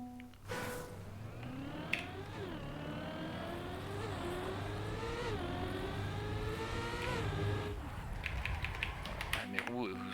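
Racing game engine sound from a car in TrackMania 2020, a steady droning tone that rises and falls as the car drives and skids across ice, with a few sharp clicks, playing continuously at moderate loudness.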